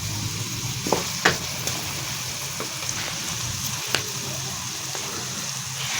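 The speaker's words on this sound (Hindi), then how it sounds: "अब हम इसमें अदरक लहसुन का पेस्ट डाल देंगे।" Ginger garlic paste sizzles in a pan with frying onions for a turnip and pea curry. A steady close crackle runs throughout, broken by a few sharp clinks and scrapes of stirring.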